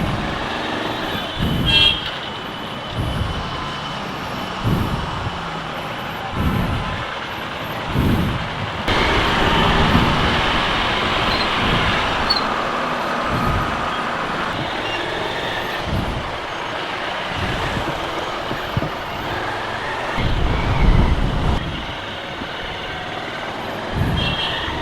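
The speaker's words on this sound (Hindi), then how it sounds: "बहुत ट्रैफिक है, बहुत। आज वीकेंड है, सब बहुत ट्रैफिक।" Heavy weekend traffic jam on a road in Meghalaya, with idling trucks and cars, a rumbling engine drone, hissing air brakes and occasional horn toots, loud and near.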